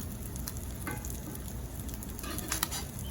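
Crab cakes packed with lump crab meat frying in a pan, a steady close sizzle with crackling pops and a few brief louder spatters, no voices.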